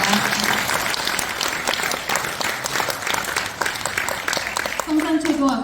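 An audience at a Korean community gathering claps to welcome arriving guests, brisk, fairly close applause throughout, with a voice starting near the end.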